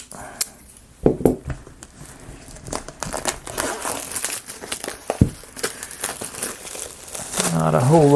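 Paper instruction sheets for a 3D gravity maze toy are handled close by, crinkling and rustling in bursts with a few sharp crackles, while a person talks over the handling.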